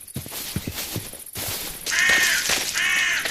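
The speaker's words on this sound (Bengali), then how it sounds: "অনেকক্ষণ ধরে গেমের মধ্যে এইসব যে পাখিগুলো দেখাচ্ছে কজি কিটের মোড দিয়ে এসছে, আর সাউন্ড মোডের সাথে মিশে যা করছে শোনো শুধু" Bird calls from a Minecraft mod's added birds, mixed with a sound mod: a few short croaking caws up front, then louder, brighter chirping calls in two bursts, with no talk.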